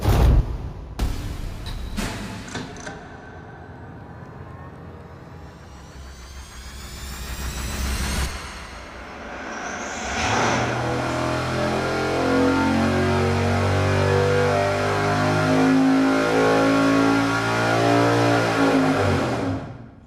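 A carbureted engine running E85 fuel revs on a dyno, rising from short sharp blips into a sustained loud, rough roar with a steadily climbing pitch through the second half.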